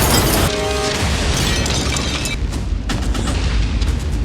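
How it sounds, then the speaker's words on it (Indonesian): A grenade tossed from above blows up in an action film scene, a loud booming blast that fills the whole clip with dense rumbling gunfire-like bursts and no talking. "Tiba-tiba sebuah granat dilemparkan dari atas."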